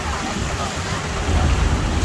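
Rain falls during a thunderstorm on the Kilimanjaro Safaris ride at Disney World, a steady broadband hiss of drops that swells slightly louder toward the end, with no distinct thunder clap.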